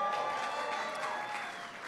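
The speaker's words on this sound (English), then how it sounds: "Give him a big round of applause." Guests at a Cinco de Mayo reception clap for a visiting Mexican undersecretary, a full, continuous burst of crowd applause that fades slightly toward the end.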